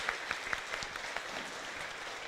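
Audience clapping for students performing on stage at a benefit concert for blind and visually impaired elderly people, a dense crowd applause with a few sharper claps early on, steady and moderately loud.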